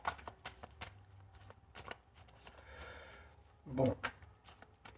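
Tarot cards shuffled and laid out for a nine-card spread: a run of soft papery riffles and flicks, then a louder slap as cards land, with a faint voice nearby.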